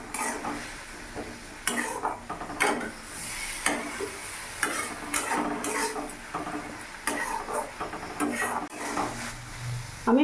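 Masala spices with chilli powder and a splash of water are stirred and fried in a pan, with a soft sizzle under repeated scraping and clinking of a spoon against the metal.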